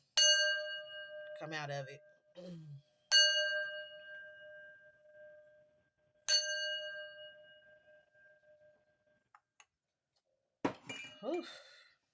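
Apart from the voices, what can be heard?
bell being struck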